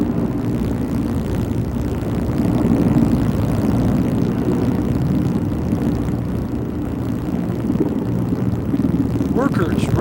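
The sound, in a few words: helicopter flying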